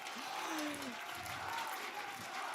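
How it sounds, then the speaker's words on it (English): An esports arena crowd at a Dota-style finals cheers and claps for Na'Vi, a dense roar of applause and shouts with a commentator talking over it. "This crowd has been cheering for Na'Vi for years."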